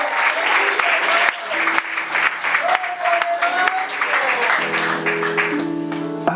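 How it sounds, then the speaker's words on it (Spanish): A church congregation bursts into loud, close applause during a worship service, with sustained keyboard or organ tones ringing beneath the clapping throughout. "denle un fuerte aplauso"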